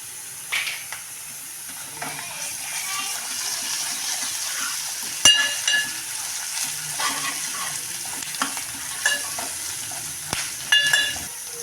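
Curry leaves and ginger-garlic paste sizzle and crackle steadily in a hot pan of oil for a dry fish curry, a continuous frying hiss with sharp spitting pops and occasional stirring scrapes, close up, with no talking.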